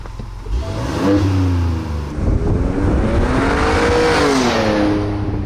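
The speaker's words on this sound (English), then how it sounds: "I'm going to drive a black Ford Ranger Raptor from Brisbane to Sydney" A 2023 Ford Ranger Raptor pickup engine rises and shifts through revs as the vehicle accelerates on a freeway, loud and close, with rising and falling engine tones.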